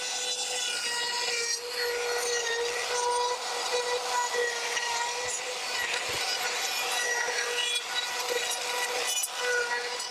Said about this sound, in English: Then I'm going to go ahead and sand.